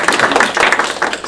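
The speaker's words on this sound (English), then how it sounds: "Let's give them a round of applause" Audience applause at an Orange County communicators work group meeting, a dense, steady patter of many hands clapping close by, filling the short stretch without pause.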